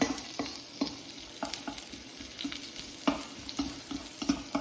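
Garlic cloves stir-fry in a pan for shiitake kkanpunggi, a soft continuous sizzle broken by repeated close spatula scrapes and taps at an uneven rhythm.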